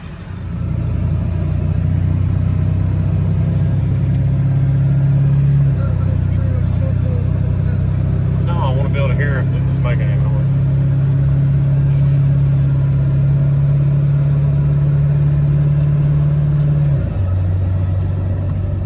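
Ford Super Duty truck driving after a 4.10 gear and Eaton Truetrac differential install, with a loud, steady low engine drone inside the cab and a downshift in pitch near the end.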